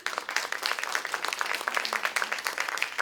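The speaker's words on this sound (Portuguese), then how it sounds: "eu peço uma salva de palmas" An academic seminar audience applauds three professors, with close, individually distinct hand claps forming a brisk, lively round of clapping throughout.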